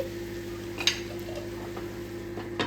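Sliced onions and green chillies are stirred in a pan, with soft scraping strokes and a couple of brief clinks over a steady low hum, close and fairly quiet.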